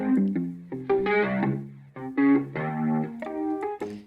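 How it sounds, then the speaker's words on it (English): An electric guitar played through a compression pedal and tube distortion rings out a short melodic phrase of sustained, slightly gritty notes with chorus-like shimmer, loud and up front. "The pedal, we're using a little bit of the compression pedal,"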